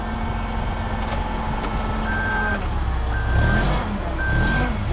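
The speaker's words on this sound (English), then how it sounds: "You got the backup alarm." A forklift's backup alarm sounds three evenly spaced reversing beeps over the steady rumble of the running machine, loud and close.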